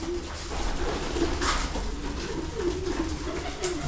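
A pigeon coos softly and repeatedly over a steady background hum, low murmuring calls recurring every second or so.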